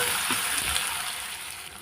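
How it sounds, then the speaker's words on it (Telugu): Ginger paste fries in a pan for a cauliflower and potato masala curry, giving off a steady, close hiss and sizzle with no talking. "అల్లం పేస్ట్ ఫ్రై అయిపోయింది."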